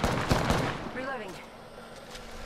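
Gunfire rings out in a multiplayer shooter video game, with several sharp bursts of shots in the first second, then a trailing electronic warble, all heard under a player's voice talking.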